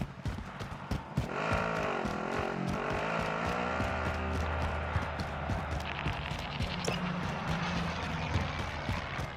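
A vehicle drives in the Warzone video game, a steady engine drone with tire noise running close and loud throughout, mixed with other game sounds.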